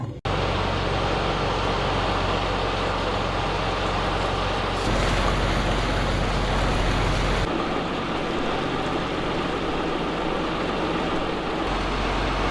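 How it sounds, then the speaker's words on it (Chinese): A fishing boat heads out onto the open sea, the engine drone and rushing waves blending with heavy wind buffeting the microphone, loud and continuous throughout. "今天咱们已经坐上船了，船刚刚出发"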